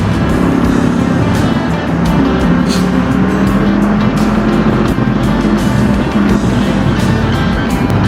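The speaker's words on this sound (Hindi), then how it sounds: "Traffic, bloody traffic." Loud, steady road traffic rumble heard from a motorbike riding through Karachi streets toward PC Hotel, with continuous engine and wind noise and vehicles passing close by throughout.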